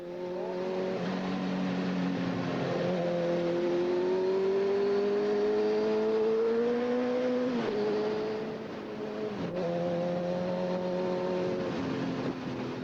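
A powerful motorbike engine powers up hills with a loud, sustained drone whose pitch climbs steadily through the gears, dipping briefly before rising again as it keeps accelerating.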